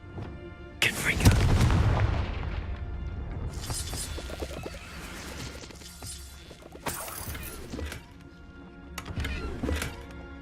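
A Confringo blasting curse explodes in a Hogwarts video game with a deep, heavy boom, followed by scattered crashes and smaller blasts over the next several seconds.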